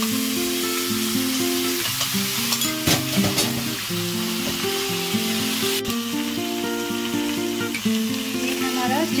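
A chicken sizzler crackles and hisses loudly on a hot plate with butter added, a steady close fry with sharp spatters and scraping, no talk.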